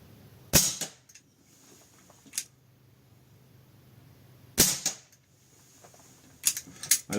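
A Snowpeak PP750 5.5 mm PCP air pistol fires at a 40-metre target. Sharp, loud cracks come one at a time with long pauses between them, and each is followed by faint clicks and handling noise.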